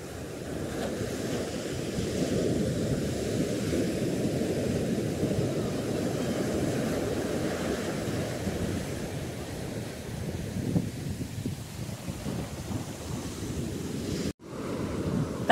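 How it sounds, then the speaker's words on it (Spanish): Surf rolls continuously onto a beach on the Chilean coast, a broad steady wash of breaking sea waves with wind buffeting the microphone, loud and close, ending in a brief dropout. "el sonido del mar."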